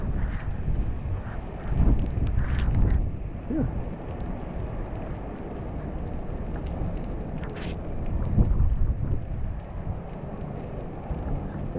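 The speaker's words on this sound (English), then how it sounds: "That was a little bit windy there." Typhoon wind buffets the microphone on Rua de Évora, a street in Taipa, Macau, in a steady roaring rush with stronger gusts. A person exhales briefly.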